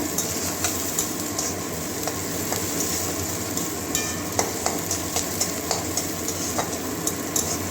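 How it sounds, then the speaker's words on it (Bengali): Onions fry toward brown in oil for a chana dal with okra and potato, a steady near sizzle broken by regular clicks and scrapes of a spatula against the pan. "পেঁয়াজটা লাল লাল করে ভেজে নেবো বাদামি কালার পর্যন্ত"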